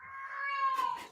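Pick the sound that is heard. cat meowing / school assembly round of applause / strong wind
cat meowing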